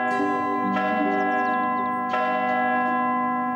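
Church bells in a Postman Pat cartoon ring out loud and clear, one long resonant peal with fresh strikes at intervals, each tone sustaining and decaying.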